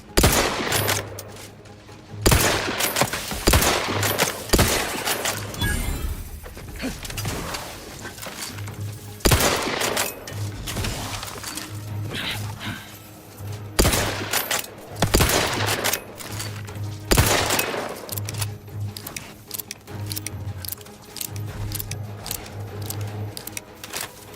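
An automated turret in the video game The Outer Worlds fires repeated loud bursts of gunfire, sharp volleys recurring every few seconds over a low droning game hum, with no talking.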